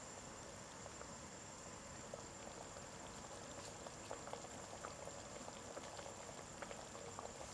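Miso stew liquid bubbles and simmers steadily in a pot, a soft continuous hiss with scattered small pops, quiet and close, as mackerel is added.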